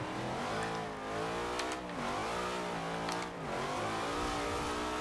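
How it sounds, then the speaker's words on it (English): A 1963 Chevrolet Corvette C2 V8 in Forza Horizon 2 revs loud and close, its pitch climbing through repeated gear shifts, with the engine tone dipping briefly between sweeps and no talk over it. "this is such a beautiful sounding car. Nothing I love more than an old school V8"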